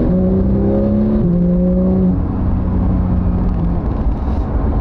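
A Porsche GT3 4.0 engine revs loudly and climbs in pitch while accelerating, then eases into a steady, rumbling drone. It is close and continuous, with no talking.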